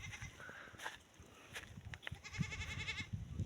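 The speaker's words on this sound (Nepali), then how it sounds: "बाख्रा त कहाँ कहाँ माथि पुगिसक्यो।" Goats bleating on a forested hillside in Nepal, a few wavering bleats at moderate distance over outdoor ambience, the last one drawn out and clearer.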